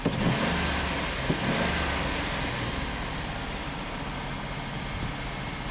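A Dodge Caravan engine runs at a high idle with the throttle stuck partly open, a steady close mid-pitched drone with a brief early surge, no talking over it.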